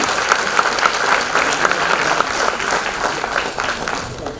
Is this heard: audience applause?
yes